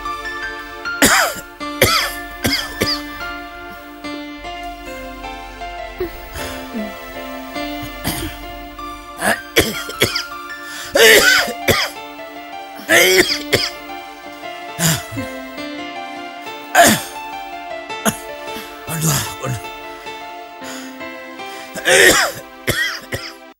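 An older man coughs and clears his throat in a Malayalam short-film scene, giving several rough bursts spaced out over soft background music.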